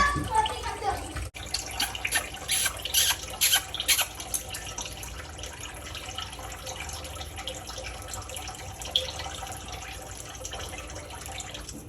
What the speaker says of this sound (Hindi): इसको पानी दे दो, पानी पीना होगा उसको।